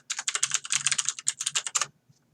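Fast typing on a computer keyboard as a command is entered into a Git terminal: a quick, close run of crisp key clicks for about two seconds, then a few isolated taps, with no talking.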